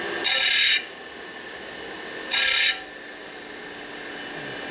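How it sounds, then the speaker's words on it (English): Two short bursts of bench grinding as 1974 Harley-Davidson 74ci Shovelhead engine parts are ground flat, each lasting about half a second, bright and harsh, with quiet shop noise in between. "Let's go ahead and grind these flat here."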